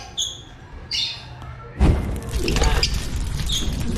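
Several short, bright chirps from pet birds, split Opaline lovebird-type stock, ring out near and alone, followed by a burst of louder rustling and clattering in the cage.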